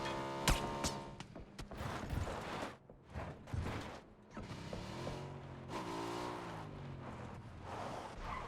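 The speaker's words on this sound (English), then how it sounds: "Platoon's revving the engine a bit" Vehicle engine in the battle royale game PUBG revving up and down repeatedly, loud and close, with rising and falling engine tones, sharp mechanical clicks and tire noise, no talk.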